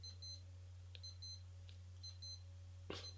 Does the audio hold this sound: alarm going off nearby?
yes